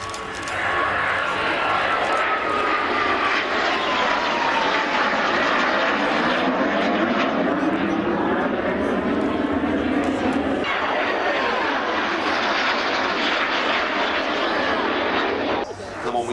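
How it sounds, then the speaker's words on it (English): A Royal Navy Historic Flight Fairey Swordfish I biplane flies past at an airshow, its piston engine droning loudly and shifting in pitch as it passes, while a commentator talks over it. "This is the last pass from the Royal Navy historic flight,"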